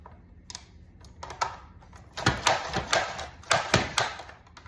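An up-and-down blade chopper slices a pepper, making a series of quick sharp clacks, sparse at first and then rapid and louder, close by and without speech.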